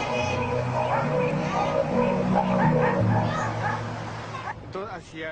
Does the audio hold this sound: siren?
no